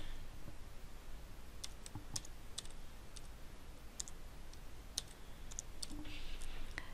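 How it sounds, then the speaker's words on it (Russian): Keyboard keys tapped to enter a transaction password, a sparse run of light clicks spread through several seconds over a steady low background hum. "Вводим пароль транзакции снова."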